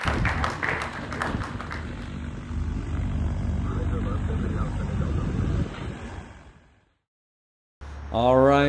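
Seamax amphibious light aircraft in flight, its propeller engine droning steadily and loud for about six seconds before cutting out, followed by a brief voice near the end.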